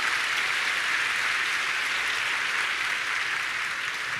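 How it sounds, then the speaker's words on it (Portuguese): A church congregation gives sustained, even applause in praise, thick continuous clapping at a steady level with no break. "Aplauda ao Senhor."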